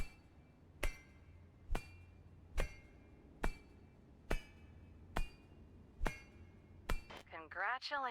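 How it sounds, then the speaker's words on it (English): Copper ore mined by hand in the video game Techtonica: eight evenly spaced sharp metallic pick strikes about once a second, followed by a brief chirpy warbling effect at the end. "You mined all of the ore you needed for the objective without building a single mining drill"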